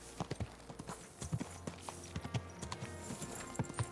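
Steady horse hoofbeats clip-clop in an uneven rhythm over a low hum and soft game music in Kingdom Come: Deliverance 2, moderately close, with no talking.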